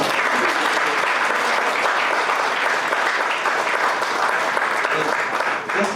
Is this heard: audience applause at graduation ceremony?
yes